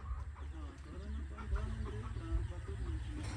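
Chickens cluck and murmur on a farm among plants, a busy close stream of short calls with a voice talking at times over them.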